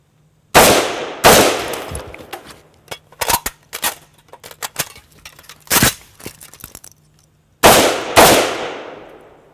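An AK-47 rifle fires during a magazine reload drill: several loud, sharp shots ring out, then a gap filled with metallic clicks and clatter of the magazine change, followed by two more close, booming shots.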